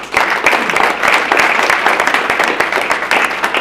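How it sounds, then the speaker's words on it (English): An audience at a Field Day gathering gives a round of applause for Dana, steady dense clapping at moderate loudness throughout, no voices over it. "I just want to give a quick round of applause to Dana"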